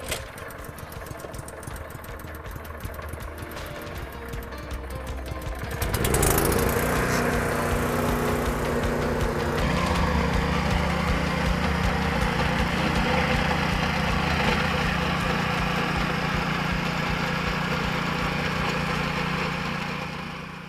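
A commercial-grade rear-tine Gardenquake garden tiller idles roughly at first, then its engine catches with a sudden surge about six seconds in and keeps running in a steady, loud, vibrating drone close by before tapering off at the end.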